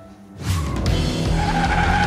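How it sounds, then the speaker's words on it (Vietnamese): Cartoon car roaring into motion after a brief quiet start, a loud, continuous engine drone with a squealing, skidding edge that holds steady to the end. "Hãy nghe tiếng vang và tiếng động cơ này đi."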